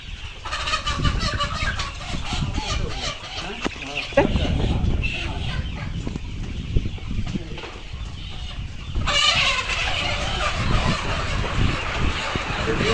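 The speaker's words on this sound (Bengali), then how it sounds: "এখানে প্রায় আমাদের তিন হাজার প্লাস মুরগি রয়েছে" Many layer chickens on a poultry farm of over three thousand birds cluck and squawk together in a continuous noisy chorus, loud and close, with people talking over the flock.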